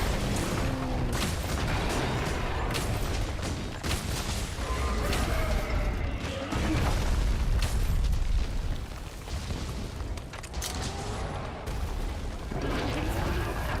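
Repeated booming sticky-ammo explosions from Monster Hunter World, loud and dense across the whole stretch, layered with heavy game combat noise and brief bursts of talk.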